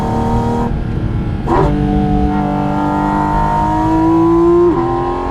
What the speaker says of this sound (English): So it's going to do a quick bit of overtaking of a Suzuki.